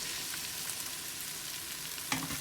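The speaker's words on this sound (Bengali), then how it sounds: "আর এগুলো তো নিয়েছি ভাজার জন্য" Pasta ingredients sizzling as they fry in a pan, a steady broadband crackle held close throughout, with a brief louder stir or clatter near the end.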